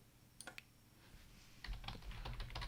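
Keystrokes on a computer keyboard while scripting, a few isolated taps followed by a denser run of quick, close typing with no talk.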